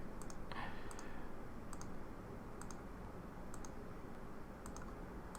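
Computer mouse clicks during AutoCAD drafting work, about six faint, sharp double clicks spaced roughly a second apart over a quiet room hiss.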